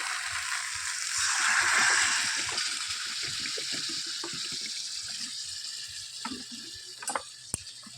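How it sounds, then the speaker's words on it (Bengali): Water is poured into quail meat fried down with spices in a pan, bringing a loud burst of hissing sizzle that settles into steady bubbling, with light stirring knocks close by. "ভালো করে কষিয়ে নিয়েছি এবার এখানে আমি জল দিয়ে দেবো"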